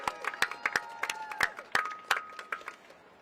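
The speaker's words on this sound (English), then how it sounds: "Can I get a round of applause for our board chair, Gail Carr-Williams?" Sparse applause from an audience at the opening of a farmers market in Nashville, heard as scattered individual claps with brief cheering, fairly faint and spread out rather than a full ovation.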